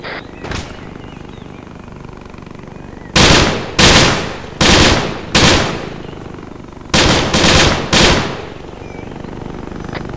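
Gunfire in Arma 3 comes in loud, close bursts of rapid automatic fire, two clusters of several sharp volleys separated by brief pauses over faint background noise.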